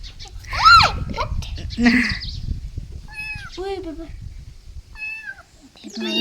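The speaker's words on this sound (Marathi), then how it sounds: "कोणाला आवडतं मांजरीच पिल्ला" A kitten meows repeatedly close by in a rural farmhouse setting, short high-pitched cries spaced out over a few seconds, with people talking and a rustling background.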